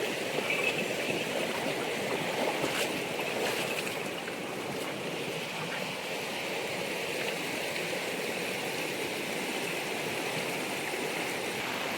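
A river in the Konkan countryside rushes and flows steadily, a broad continuous watery roar close by with no voices.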